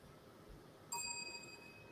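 A single bright ding of a small bell rings once and lets a clear ringing tone hang and fade, faint against a low background hum.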